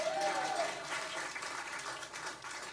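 Audience applause in a cabaret room at Feinstein's 54 Below, a steady wash of clapping that holds through the short span with a brief voice-like tone near the start.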